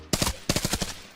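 Rapid video-game gunfire fills the space in two close bursts of automatic shots, loud and sharp, with a final single crack at the end and no talk over it.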